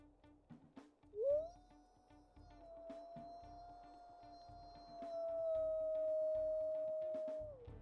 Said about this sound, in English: that's an extremely high-pitched one